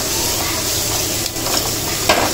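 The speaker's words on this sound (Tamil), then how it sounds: "போட்டு நம்ம நல்லா இதை வதக்கி விட்டுருவோம்" Chopped onions sizzle steadily in hot oil in a pan for egg gravy, a continuous close frying hiss with a brief utensil scrape near the end.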